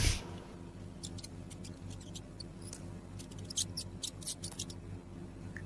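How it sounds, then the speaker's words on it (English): A rat gives short, high, faint squeaks and clicks in scattered clusters over a low steady hum, close and quiet, with no voices. "R for rat."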